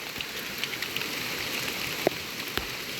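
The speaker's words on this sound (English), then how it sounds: "I'm going to get out of the rain" Rain falls steadily during a hurricane, a dense hiss with occasional heavier drips and taps on a surface close by, moderately quiet and continuous with no voices.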